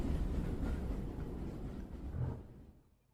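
Freight train shunting goods trucks at the docks on a foggy night, a close, heavy rolling rumble with clattering wheels that fades away at the end.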